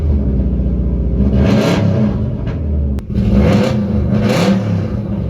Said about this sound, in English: Let's give it a couple revs, see what it sounds like.